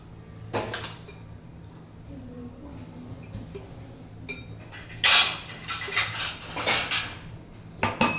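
Garlic cloves are pounded in a home kitchen, making sharp, irregular knocks and metallic clinks that come in clusters, loudest in the second half, against a quiet background.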